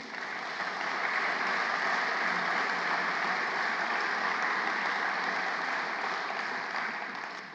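Steady, dense applause from a crowd, sustained at an even level for several seconds before tapering slightly at the end.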